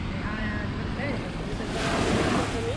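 Cold Mediterranean waves wash onto a Spanish beach in a steady close surf rush, mixed with wind buffeting the microphone.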